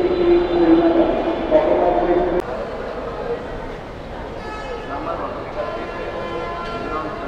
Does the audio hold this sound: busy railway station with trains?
yes